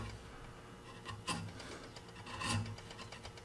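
A chisel pares wood on a trestle horse in a workshop, with two distinct scraping strokes over a quiet, steady background.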